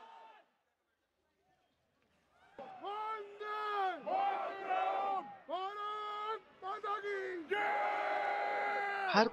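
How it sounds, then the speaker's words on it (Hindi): A crowd shouts patriotic slogans at the Wagah border ceremony near Amritsar. After a brief quiet, loud, sustained chanted cries rise in repeated waves, close and forceful. "देशभक्ति के नारों की ही आवाजें गूंज रही होती हैं।"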